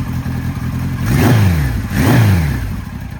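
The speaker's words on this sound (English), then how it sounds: "So we're gonna hear it run. Motor sounds perfect." A 1973 Kawasaki Z1 motorcycle engine, already warm, runs loud and close, rising through two distinct revs that swell and fall back to a steady idle between them.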